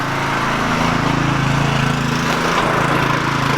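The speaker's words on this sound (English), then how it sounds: "get a bunch of shit on it with the power washer" A power washer motor drones steadily and loudly in a garage during cleanup of a BMW S50 engine, a continuous buzzing hum with no speech.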